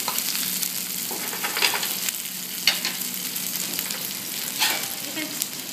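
Tiger prawns frying in a pan that gets shaken now and then, with a steady close sizzle and a few scraping, clattering bursts from the pan's movement.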